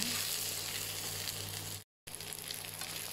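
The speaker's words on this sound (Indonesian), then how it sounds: "kita boleh tambahkan lagi minyak masak sebab kita nak tumis ikan bilis tu ya, bagi dia masak" Anchovies (ikan bilis) fry steadily in cooking oil for sambal hitam, a dense close sizzle that cuts out briefly partway through, then resumes at the same level.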